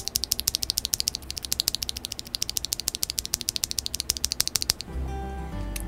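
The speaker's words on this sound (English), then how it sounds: "this is what the Holy Tom sounds like stock" A stock Holy Tom mechanical keyboard switch is pressed over and over in a quick, even run of sharp clicky taps, close and fairly quiet, ending in a short stretch of low background noise.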